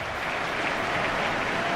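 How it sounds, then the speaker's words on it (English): A stadium crowd applauds and cheers in the Santiago Bernabeu during a Real Madrid versus Barcelona match in FIFA 14, a dense, steady wash of clapping with no voices over it. "Crowd settling back down here in the Santiago Bernabeu Stadium."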